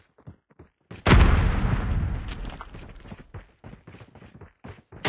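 A frag grenade goes off in a Call of Duty match with a loud close explosion and long rumbling tail, surrounded by scattered gunshots and footsteps.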